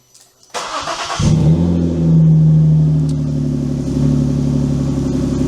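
A car engine starts after a key turn with a security ring, settles into a loud close idle, then revs up and eases back to a steady rumble, with no talking.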